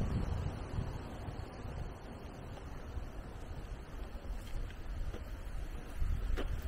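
Wind blowing over a small handheld camera's microphone outdoors, a steady close rumbling roar that keeps going without a break and swells a little near the end, with no talking.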